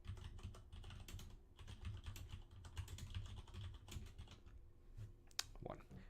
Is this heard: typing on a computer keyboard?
yes